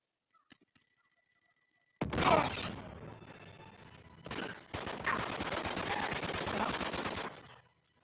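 Gunfire in the video game Uncharted: Among Thieves, loud bursts of rapid automatic shots with a short pause between volleys, near and dense, with no talk over it.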